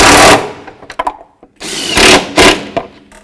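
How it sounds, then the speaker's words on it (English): A ratchet with a 13 millimeter socket works a bolt on an engine airbox of a 1984-2001 Jeep Cherokee, giving close, loud clicking bursts with short pauses between strokes. "13 millimeter socket."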